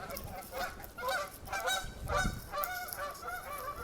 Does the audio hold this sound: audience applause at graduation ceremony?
no